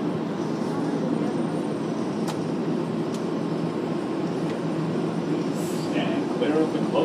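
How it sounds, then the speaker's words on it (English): Inside a Manhattan-bound R188 7 Express subway train in motion, a steady loud rumble and whine of the running car with occasional faint clanks, and an onboard announcement voice over it. "is a Manhattan Bound 7 Express train"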